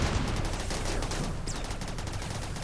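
Turrets firing in RimWorld, a dense rattling burst of rapid gunfire crackling continuously and loudly for a few seconds with no voices.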